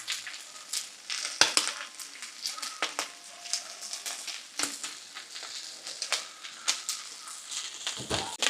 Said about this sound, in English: So I'm just gonna chip 2 stalks of shallot in.